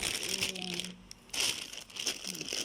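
The outer plastic bag of a double-bagged delivery parcel crinkles and crackles as it is pulled open by hand. The rustling is close and nearly continuous, with one brief pause in the middle.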